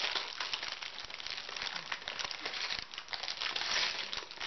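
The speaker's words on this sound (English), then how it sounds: "I know how to open bags." Crinkling plastic bag of Lego Star Wars Stormtrooper Transport pieces being torn open by hand, a steady, close rustle and crackle of thin plastic lasting several seconds with no talking.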